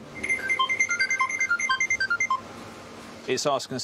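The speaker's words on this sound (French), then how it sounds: "Aussitôt, l'alarme sonne." A rapid electronic alarm beeps in a steady, repeating pattern of short tones, with a voice breaking in briefly at the end.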